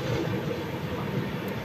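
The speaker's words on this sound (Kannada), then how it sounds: "ಡಬಲ್ ಡೆಕ್ಕರು ಬೆಂಗಳೂರು ಕಡೆ ಹೊರಟಿದೆ ಈಗ" A double-decker train on the Chennai to Bengaluru line passes with a steady, close, continuous rumble and no voices.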